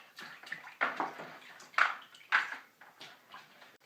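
Water splashes and rinses over a pottery wheel in short uneven bursts, close and fairly faint, with intermittent gushes and small clinks.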